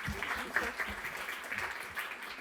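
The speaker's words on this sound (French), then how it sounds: "On peut applaudir Lucien" Audience applause at an evening event, a steady dense patter of many hands clapping at moderate level for the whole stretch, with a faint voice underneath.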